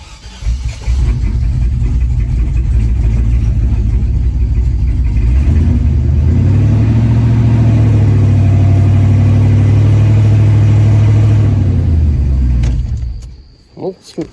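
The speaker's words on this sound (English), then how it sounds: "Let's see if it starts." A 2003 Chevrolet Silverado 1500 pickup engine, fitted with a replaced knock sensor, cranks and catches, then runs at a loud, steady, deep rumble with a brief rise in revs before it cuts off near the end.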